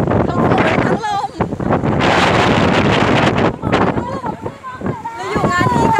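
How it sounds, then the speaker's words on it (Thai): Gusts of wind with rain buffet the microphone in loud, roaring bursts while a person talks over them outdoors at a charity cycling event. "ทั้งฝนทั้งลมเลยอ่ะ"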